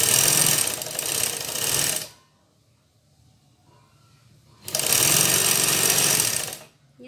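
A sewing machine stitches the side seam of a Patiala shalwar in two loud, close runs of fast stitching separated by a quiet pause of a couple of seconds.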